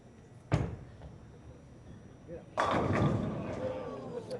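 A bowling ball crashes into pins at a scratch bowling tournament: a sharp thud first, then after a pause a loud, clattering burst of pins that rattles and decays, heard at moderate distance with hall ambience.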